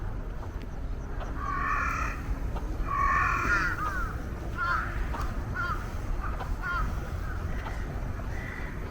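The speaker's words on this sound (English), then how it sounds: "Oh, those are birds." Crows cawing in repeated bursts while walking or biking outdoors in Japan, several harsh calls at mid distance over steady outdoor background noise.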